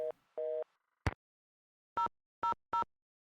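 A telephone busy signal in the Nancy Drew video game The Haunted Carousel gives short, evenly spaced electronic tones after a brief click, clean and close against silence.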